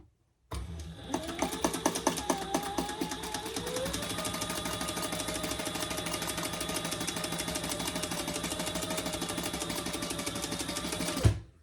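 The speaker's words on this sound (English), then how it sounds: "we're going to stitch right along this edge" A sewing machine stitches along the folded edge of a wallet slip pocket. The motor kicks in, then runs in one steady, continuous, close-up buzz of rapid needle strokes for about eleven seconds before stopping abruptly.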